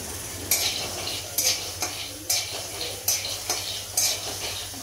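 Peanuts dry-roast in a pan for chutney while being stirred, each stroke a rhythmic scrape and rattle roughly once a second, close and clear over a low background hum, with no voices.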